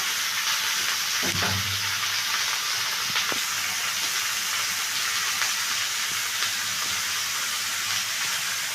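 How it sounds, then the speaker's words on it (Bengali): Chopped tomatoes hit a hot frying pan for a Bangladeshi dried-fish (shutki) dish with mixed vegetables, giving a steady close sizzle and hiss with a brief louder burst of frying early on, no talk. "আমি এখানে কেটে রাখা টমেটোটা দিয়ে দিলাম"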